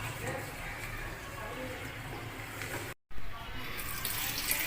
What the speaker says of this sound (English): We have to pour half a liter of water into the pressure cooker.